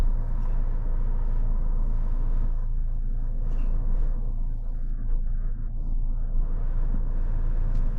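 A Toyota Land Cruiser creeps slowly downhill off-road with downhill assist engaged, giving a steady low engine and drivetrain rumble with faint tire and terrain noise, close and continuous throughout.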